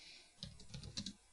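A short burst of typing on a computer keyboard: a quick cluster of close, quiet key clicks following a brief pause, no voices.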